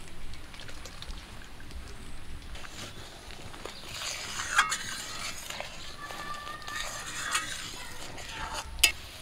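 Fish curry gravy with mustard paste simmers in a pan while a spoon stirs it, giving a soft bubbling sizzle and occasional light clinks of utensil on metal, with no talking.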